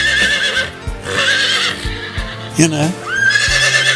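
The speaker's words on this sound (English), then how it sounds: "if the old horses know you, and when you go out to feed them of a night, they'll whinny to you" Old horses whinny at night feeding time, rising and falling neighs mixed with clip-clopping hooves, heard close while someone talks over them.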